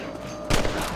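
A single rifle shot cracks out halfway through, loud and close, while hunting rabbits in Red Dead Redemption, followed by a short rumbling tail over steady background ambience.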